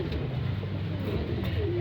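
Pigeons coo inside a loft, a few soft low throaty coos rising over a steady background murmur, close by.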